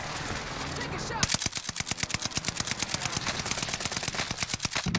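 Rapid automatic gunfire rattles in a multiplayer shooter game, a steady fast stream of sharp close shots starting after a second of ambient battle noise and continuing without a break to the end.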